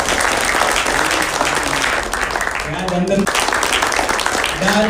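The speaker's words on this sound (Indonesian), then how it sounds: "tepuk tangan yang paling meriah untuk Anda semua yang bisa hadir di acara kita hari ini" Audience applause at a meet-and-greet event in Jakarta, dense and continuous clapping that runs under an announcer's voice speaking over it.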